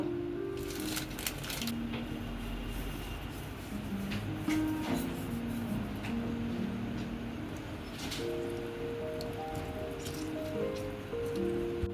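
Salt and lemon are rubbed into raw chicken for tandoori, giving soft, wet squishing and sticky kneading sounds close by, repeated irregularly for the whole stretch.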